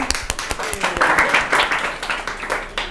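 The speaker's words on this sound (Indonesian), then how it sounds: "Tepuk tangan." Scattered audience clapping at an Indonesian land-policy forum hosted by Huma, starting as a few sharp separate claps and thickening into brief, moderately loud applause with voices in the room.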